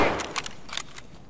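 Several quick, sharp gunshots crack in a video game shooter, spaced unevenly over about a second and heard at moderate distance.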